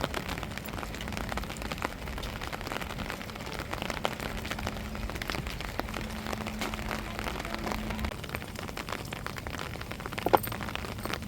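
Steady rain patters on a surface, a dense, even hiss of drops with a faint low hum running underneath.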